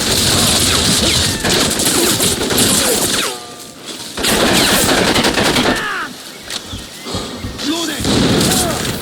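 Loud, rapid automatic gunfire and bursts of shots in the Crysis Remastered video game, with heavy thumps and crashes and voices calling out over the firing.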